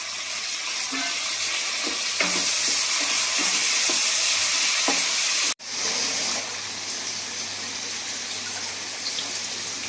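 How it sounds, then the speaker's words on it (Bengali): Green chillies frying in a pan on a home stove give a continuous close sizzle, with a few soft knocks early on and a brief drop before the hiss resumes, heard alone without talk. "কাঁচা লঙ্কা ভালো করে ভাজা হয়ে গেছে, এবারে কি করব, বিনস গুলো দিয়ে দেবো।"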